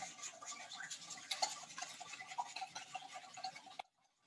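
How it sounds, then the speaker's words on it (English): A whisk beats a mixture in a bowl for a Thai dish, giving rapid, irregular light clicks and taps close by that stop abruptly near the end. "Just mix it right in there. Give a really good whisk."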